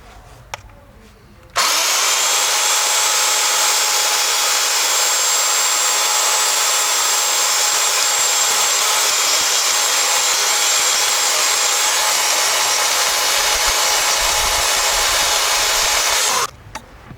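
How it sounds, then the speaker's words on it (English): Power grinding tool removing a metal edge while fitting speakers into an Audi A4, a loud, steady high-pitched grinding whine that starts abruptly, holds for about fifteen seconds, and cuts off. "I'd have to file off this metal edge along the underside of here as well"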